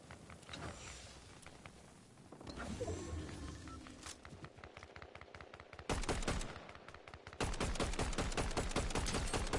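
Gunfire in the video game Fortnite bursts out as rapid automatic volleys, rising to dense sustained strings of shots in the second half, loud and close with little else around.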